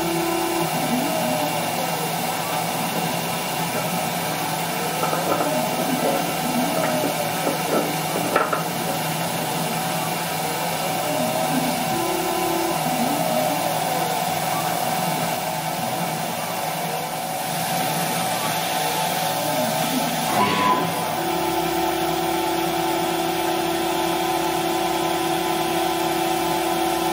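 A machine spindle turns at 1200 RPM, cutting clear acrylic with a steady close whine and hum that holds for the whole stretch, with a few brief clicks and shifts in tone along the way and no talk.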